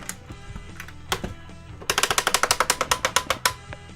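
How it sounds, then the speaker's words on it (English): The DX Rider Gashat toy case ratchets out a fast run of crisp plastic clicks, about a dozen in quick succession after a few scattered single clicks, close by with no talk. "Yeah, and a nice clicking sound"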